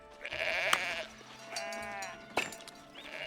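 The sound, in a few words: sheep bleating in video game Foundation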